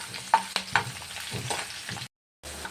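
Pirandai (adamant creeper) is sautéed in a pan for pickle, producing a moderate sizzle with several uneven spatula scrapes and knocks, then a short drop to silence before the frying resumes.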